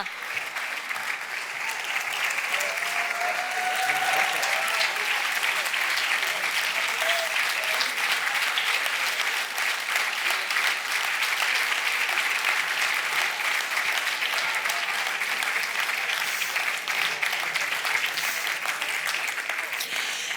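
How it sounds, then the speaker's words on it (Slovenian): Long, sustained audience applause at a Slovenian Statehood and Unity Day ceremony, even and unbroken clapping from a large crowd lasting the full stretch, with faint voices beneath. "Marko, Gregor, aplavz se ne konča"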